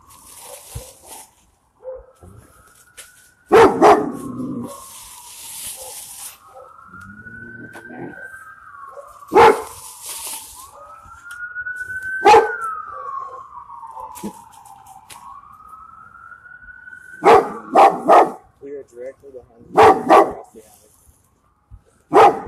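A police dog barks in loud, sharp bursts during an officer shooting after a foot pursuit, while a police siren wails steadily behind and voices shout over the scene.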